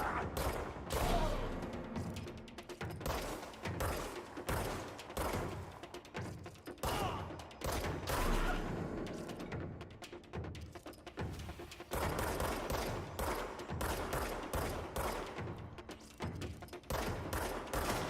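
Sustained gunfire in the video game Control, dense rapid bursts of shots and heavy thuds repeating almost continuously, loud and close with brief pauses between volleys.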